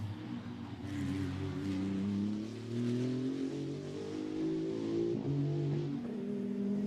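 A GT2 race car runs during 2024 Fanatec GT2 Europe qualifying at the Misano circuit. Its engine note drones fairly faintly in the distance, with gentle pitch shifts as it goes by, and no voices can be heard.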